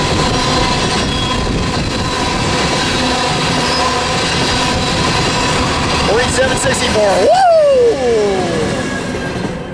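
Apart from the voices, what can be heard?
freight train passing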